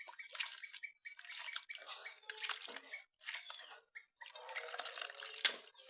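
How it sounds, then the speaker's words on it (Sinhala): Papaya pieces are swished and rinsed by hand in a bowl of water, producing close, uneven sloshing and splashing in short bursts with brief pauses between them. "මේ ටික හොඳට සෝදලා"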